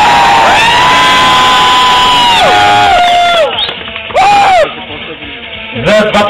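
Spectators at the Kraymorie motorcycle rally cheer for a black Triumph motorcycle, with loud, long drawn-out whoops and shouts over a noisy crowd, rising and falling in several bursts close by.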